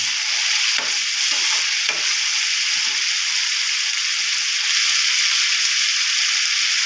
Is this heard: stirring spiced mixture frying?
yes